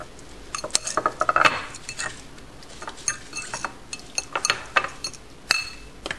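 Fat-free Kraft mayonnaise being stirred in a small dish with a utensil, giving scattered light clinks and scrapes of metal against the bowl, close and fairly quiet, with no talking.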